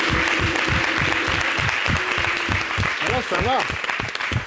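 Audience applause for models presenting outfits in a fashion segment on a local summer TV programme. Steady, dense clapping runs throughout, with a host's voice speaking briefly over it near the end.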